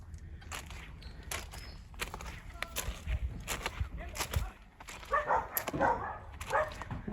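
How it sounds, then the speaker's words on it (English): Neighbouring dogs bark and yip in hot weather near a moored yacht, with irregular bursts of barking at moderate distance, a few louder volleys toward the end. "That's our neighbour's dogs."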